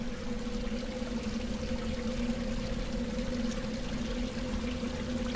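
Steady trickling water in a German video game, a continuous wash of running water with a low hum underneath, even and unbroken throughout.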